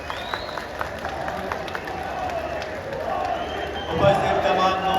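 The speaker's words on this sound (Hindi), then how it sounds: "देवी सदन का बहुत ही जोरदार तालियां माननीय प्रधानमंत्री महोदय जी के लिए।" An audience at a public event in Arunachal Pradesh applauds the Prime Minister, steady clapping and crowd noise that swells louder near the end, with an announcer's voice over parts of it.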